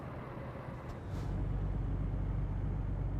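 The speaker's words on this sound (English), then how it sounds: "Riding the brakes here a little bit." A heavy truck in American Truck Simulator slows under braking, with a steady low engine and road rumble that grows louder midway and a brief soft hiss near the start.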